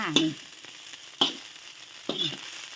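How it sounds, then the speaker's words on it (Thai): Rice with shrimp paste chili sauce is stir-fried in a wok, heard as three distinct scraping tosses of the spatula over a steady soft sizzle, close and fairly loud. "อ่าค่ะผัดไปกันเลยจ้า"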